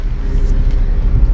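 A car's engine rumbles steadily and close, low and loud, as it is parked in front of a room.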